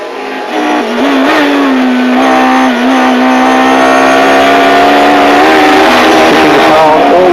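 A 1993 DTM touring car at full racing speed on the Nordschleife, heard onboard as a loud, sustained engine roar with steadily rising revs and brief dips at gear changes, without talk.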